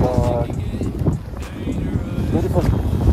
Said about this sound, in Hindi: हवा विंड थोड़ा ज़्यादा आ रहा है